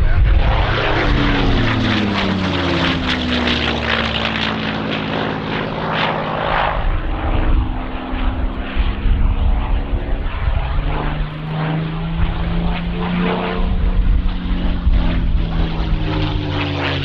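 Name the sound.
P-51 Mustang and Spitfire V12 Merlin aircraft engines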